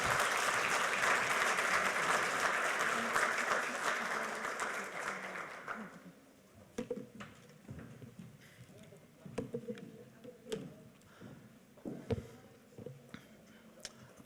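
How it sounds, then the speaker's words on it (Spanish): Audience applause at an agricultural drought-adaptation forum welcomes a speaker to the stage, dense and loud for about six seconds before thinning into scattered claps and small room noises. "Con un fuerte aplauso lo recibimos."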